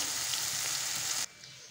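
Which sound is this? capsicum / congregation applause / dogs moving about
capsicum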